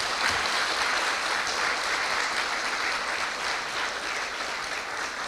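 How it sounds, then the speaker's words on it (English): An audience at a school graduation ceremony applauds in a steady, dense wash of clapping that holds for several seconds, with little speech. "So please clap yourself for your failures."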